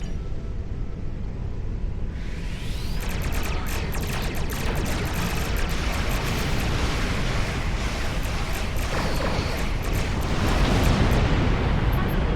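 Starship weapons fire cracking apart an asteroid in Star Trek Online: a loud, sustained roaring blast begins after about two seconds, with a rising whoosh and rapid crackling bursts, then rumbles on steadily without speech.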